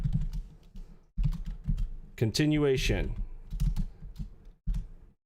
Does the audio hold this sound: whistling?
no